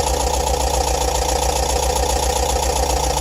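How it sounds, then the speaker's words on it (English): A bus engine running at high RPM, a loud, steady close drone with a fast even pulse and no pauses or talking. "Turning down the RPM a little bit because we're a little high."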